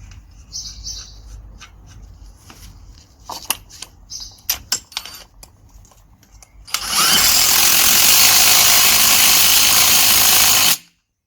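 A power tool runs on a new nut on a Seat Altea front strut mount, a loud continuous whir of about four seconds after a stretch of light clicks, taps and background chirping.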